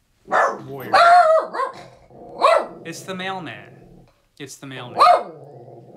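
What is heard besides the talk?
dog barking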